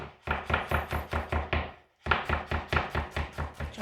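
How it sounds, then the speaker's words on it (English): Potatoes are chopped on a cutting board in quick, even knife strokes, a close and crisp run of knocks, followed by a short pause and then a second steady run. There is no talking. "Then we just chop it"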